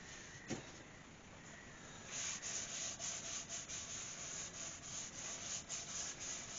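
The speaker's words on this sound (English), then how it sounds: "I'll just put some sand and sealer on here now" Sanding sealer is applied to a scalloped, wavy-edged ash wood bowl on a machine. A soft rhythmic rubbing swish repeats steadily up close after a brief tap.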